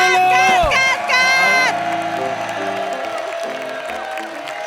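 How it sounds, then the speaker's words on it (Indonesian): Studio audience at a talent show cheering and clapping under loud musical stingers and tones, with crowd noise continuing steadily beneath the music. "Tepuk tangan dulu."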